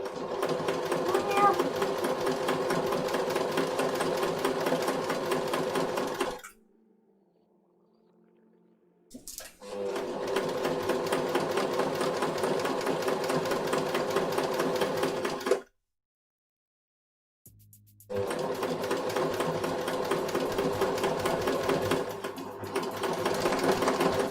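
A sewing machine stitches a shirt placket in three long, loud, steady runs of rapid rhythmic chatter, separated by brief pauses with faint handling noises.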